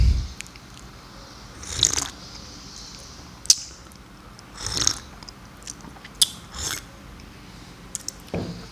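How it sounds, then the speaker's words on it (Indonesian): Hot black coffee is sipped in the morning, heard as a few separate, short, close slurps spaced several seconds apart over a faint background hiss, with no talk. "kita sudah seruput kopinya 3 kali karena memang enak ya pagi-pagi minum kopi"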